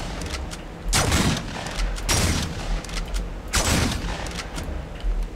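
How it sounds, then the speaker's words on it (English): Repeated shotgun blasts from a video game with dinosaurs and drones, three heavy broadband booms about a second and a half apart over a constant background rumble of gameplay noise. "Feel the power of my shotgun"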